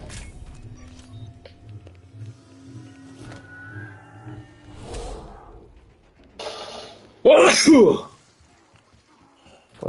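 A single sharp sneeze bursts out loud and close near the end, following quieter murmuring voices and faint game sounds during a Call of Duty Black Ops 6 Zombies session.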